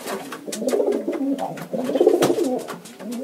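Nicobar pigeon on the Andaman and Nicobar Islands calling in repeated low, throaty coos, close and fairly loud, in irregular bursts with brief clicks between.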